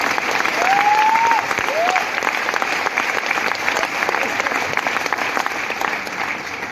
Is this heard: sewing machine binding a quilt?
no